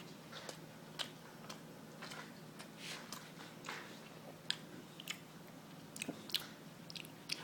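Someone eats a Sonic cheeseburger with red onion, close-up chewing with wet lip smacks and sharp irregular clicks, quiet and steady with no talking.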